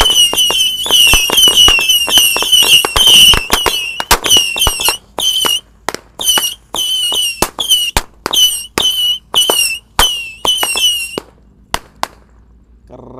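A 50-shot missile firework cake fires a long rapid string of shots, each with a sharp bang and a shrill whistling squeal. The bursts slow and thin out near the end.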